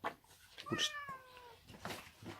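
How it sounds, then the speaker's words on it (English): Two cats, one of them Marmalade, fighting: a drawn-out, wavering meow rises over growly, hissing vocal bursts, close and moderately loud, with no talking. "we managed to peacefully resolve the battle between the cats"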